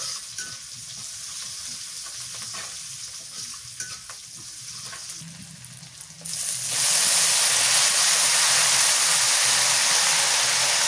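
Jute greens fry in a pan for a home-cooked Bengali meal, first with a softer sizzle and stirring clatter, then jumping to a loud, steady, close hiss that carries on without talk.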